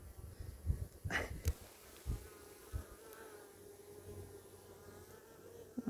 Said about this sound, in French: on peut voir un paquet d'abeilles remonter de la hausse du bas